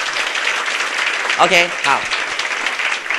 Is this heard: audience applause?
yes